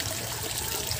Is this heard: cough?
no